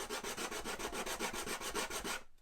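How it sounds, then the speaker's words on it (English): Sandpaper rubbed along the edge of a wooden 2x2 in quick, even back-and-forth strokes, about a dozen close rasping passes that stop abruptly near the end. "you can use the sandpaper"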